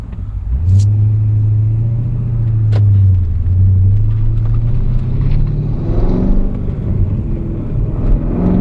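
A Cadillac CTS-V with newly fitted R1 Concepts slotted brakes pulls away and drives, a steady low engine rumble rising and falling close by, with no talking.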